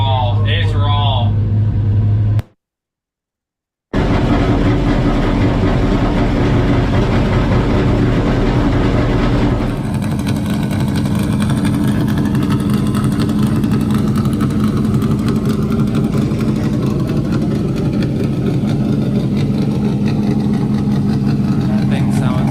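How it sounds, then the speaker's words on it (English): A raw-sounding race car with a three-cylinder-per-side engine runs and idles close by in a steady, loud low rumble, cutting out briefly before settling into a rough, continuous idle, with talk faintly beneath. "with the way that car sounds"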